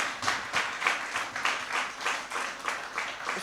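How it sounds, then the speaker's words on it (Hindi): A crowd at a Yuva Hindi Sangam event applauds, with clapping in steady, rhythmic pulses that swell and dip throughout. "तालियां एक बार जोर से।"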